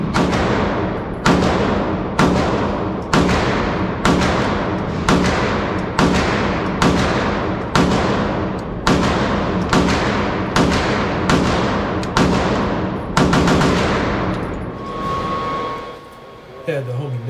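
AK rifle fired at a range: loud, close shots in a steady series of about fourteen, each a sharp crack with a short decaying echo, followed by a brief pause and one more shot.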